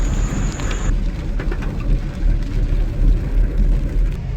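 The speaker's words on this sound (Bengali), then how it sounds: "বৃষ্টিটা একই রকম ভাবে পড়েই যাচ্ছে," Steady light rain falls during a rainy morning commute through Salt Lake, Kolkata, a continuous broadband hiss with low rumble of passing traffic throughout, no voices.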